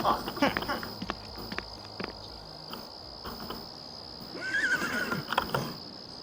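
A horse whinnies partway through in The Sims 3 over a bed of chirping insects and soft hoof-like footsteps, with faint game music in the background.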